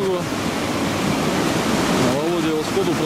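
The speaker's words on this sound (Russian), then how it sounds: "Подошли к первому порогу. Воды в реке много, поэтому он вполне проходимый." Mountain river rapids on the Sumultа river in Altai, a steady loud rushing roar of whitewater, with faint voice-like tones briefly audible over the water.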